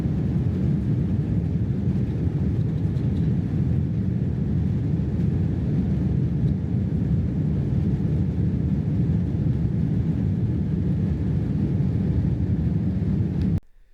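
Thai Airways airliner taking off, heard from inside the economy cabin as a loud, steady low engine roar that holds throughout and then cuts off abruptly.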